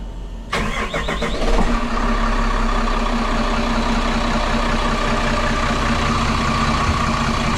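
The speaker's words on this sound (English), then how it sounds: "Let's see if we can get this engine to start in a second." A boat engine with a freshly replaced K&N air filter cranks briefly, catches and settles into a loud, steady idle that runs for several seconds, close to the microphone with no talking.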